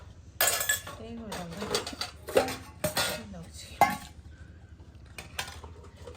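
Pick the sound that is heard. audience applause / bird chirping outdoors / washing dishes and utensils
washing dishes and utensils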